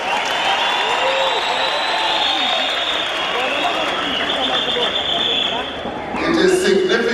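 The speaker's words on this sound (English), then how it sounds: "Let us applaud ourselves." A large outdoor crowd at a 2013 Reconciliation Day ceremony applauds themselves for honouring Nelson Mandela. The sustained, loud roar of clapping and voices carries a steady whistling tone and swells again near the end.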